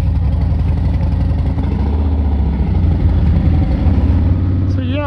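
A Harley-Davidson Fat Bob motorcycle engine rumbling loudly up close with a deep, steady throb, while a voice talks over it.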